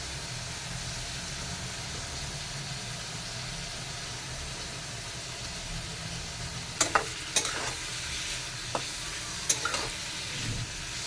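Chicken pieces with turmeric and salt sizzle steadily in a hot pan. Several sharp scraping clicks from stirring come in the second half. No one talks.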